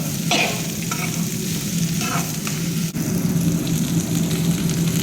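Ingredients stir-frying in a pan for a Telugu home-cooked chutney, with a steady loud sizzle and occasional scraping strokes of a spoon throughout, no talking.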